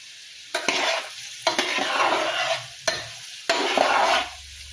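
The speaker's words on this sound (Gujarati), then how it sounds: "ડુંગળીને પણ બ્રાઉન થાય ત્યાં સુધી શેકાવા દેવાની છે।" Finely chopped onions frying in a pan until brown, a steady loud sizzle broken by four sharp scraping stirs of a spoon against the pan, with no talking.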